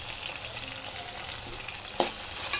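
Egg bread upma with coriander leaves is stirred in a hot pan, giving a close, steady sizzle with soft scraping and one sharp clack of the utensil near the end.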